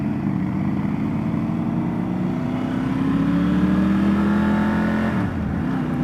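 A Triumph motorcycle, either a 1200 Scrambler or a Tiger 900 Rally, is ridden on a test ride. Its engine hums steadily and climbs slowly in pitch, then drops off near the end, up close and with no voices.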